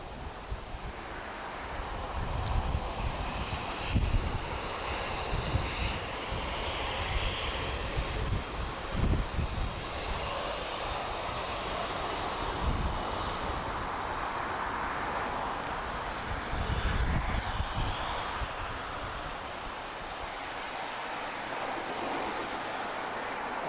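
A C-130 aircraft's engines drone at Lisbon Airport, a broad, steady roar held for the whole stretch with gusty wind-like swells, heard from a moderate distance with no talk.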